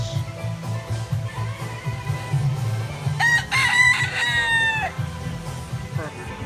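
Free-roaming roosters in a Key West town crow near the marina, one loud, clear cock-a-doodle-doo rising over murmuring voices and outdoor bustle, with clucking around it.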